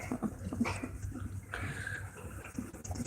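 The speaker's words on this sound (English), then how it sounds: "that little growl you just heard was Gracie, the little dog" A small dog's low growl and whimpering grumbles, close and moderately quiet, rising and falling in short bursts over a few seconds within a kennel of American Bully dogs.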